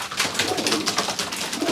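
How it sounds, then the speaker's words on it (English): Pigeons coo without a break inside a loft holding 27 young birds, a dense near chorus of soft overlapping calls with no talk. "There's 27 pigeons in here."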